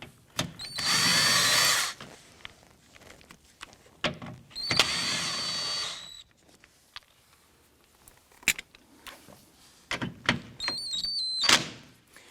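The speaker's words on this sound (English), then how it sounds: "give us access to the 3 10mm bolts right here. Let's go ahead and remove these." Power drill on Acura TL door mirror 10mm bolts, removing them from a 2004–2008 model: two loud sustained whirring bursts, then shorter clicks and brief spins near the end, close and without talk.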